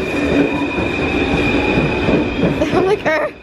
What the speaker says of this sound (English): We are back where we always are, the train station.